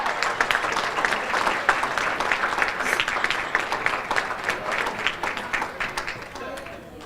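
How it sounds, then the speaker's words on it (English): An audience at a mentor rally reception gives a round of applause, a brisk burst of many hands clapping at close range that gradually thins and fades toward the end. "can we please give a round of applause for Michael Williams?"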